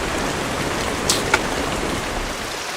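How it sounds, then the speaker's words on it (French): Steady rain falls on a remote Pacific island, Tofua, as an even, close wash of noise with a couple of sharper drop-like ticks and no voices. "Hier il a plu, aujourd'hui il pleut"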